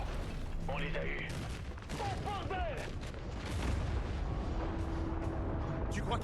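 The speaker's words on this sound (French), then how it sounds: "explosion dans leur tente" Explosions and gunfire in the video game Battlefield 6, a steady dense barrage of battle noise running throughout beneath voices talking.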